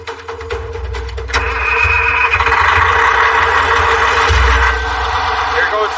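A heavy mining truck's engine runs as the driver shifts into first gear on a new transmission, giving a steady deep rumble that swells slightly as the gear engages and stays loud throughout.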